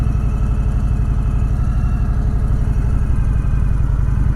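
An Indian Springfield Dark Horse motorcycle with a 116 engine idles close by, a steady, loud low-pitched throb with an even, rapid pulse that holds unchanged throughout.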